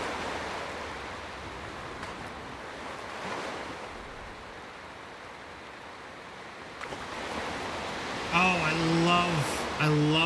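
A wooden ship's hull crashes through the sea in the video game Bannerlord War Sails, a broad rushing wash of waves and wind that swells louder toward the end, where a voice briefly speaks over it.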